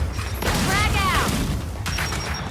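A frag grenade thrown and exploding in the video game Gears 5 Horde mode: a loud, sustained boom with crackling debris over dense battle noise, up close.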